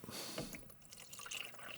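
Fresh water poured into a painter's water container, a steady close splashing and trickling flow with drips throughout, no talk.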